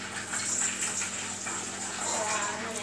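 Warm water poured into a bowl for pizza dough, a steady close splashing gush running continuously for a few seconds.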